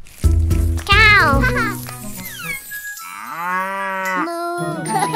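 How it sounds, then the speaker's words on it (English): A cartoon cow in a children's nursery rhyme song gives a long, drawn-out moo amid bouncy music and clanking cowbell-like hits, with childlike voices also present. "Moo moo, I am a cow."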